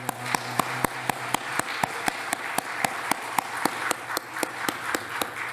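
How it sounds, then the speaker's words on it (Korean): Congregation at a Korean Sunday worship service applauding newly appointed deaconesses: a bed of crowd clapping with a pronounced, evenly spaced beat of sharp claps cutting through steadily. "우리 박수로 환영하도록 하겠습니다"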